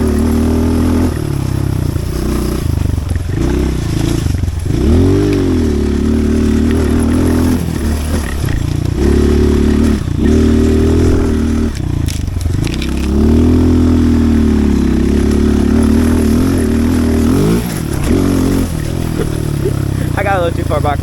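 Pit bike engine revving hard on a dirt track, its rising and falling drone sustained and loud through gear changes, with a rider's voice and whoops now and then.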